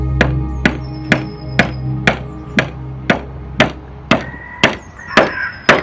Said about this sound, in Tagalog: naabutan ko siyang may pinupukpok na kahoy sa labas ng kubo